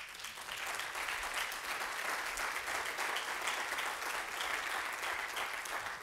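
Steady applause from an audience at a medical school's state-of-the-school address, dense and continuous from start to finish, without a break.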